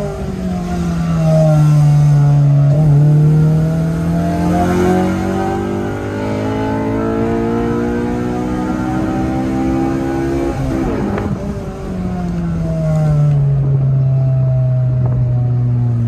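A car engine runs and revs repeatedly, the pitch climbing and falling in long sweeps, loud and close with a steady rumble underneath and no speech.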